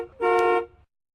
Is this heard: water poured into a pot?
no